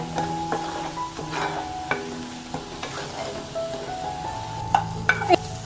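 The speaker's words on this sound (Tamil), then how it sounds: "பெருஞ்சி வர வரைக்கும் ஃப்ரை பண்ணுங்க." Spinach thokku frying in a pan, stirred steadily with a spoon. A soft continuous sizzle runs under repeated scraping strokes and a few sharper clinks near the end.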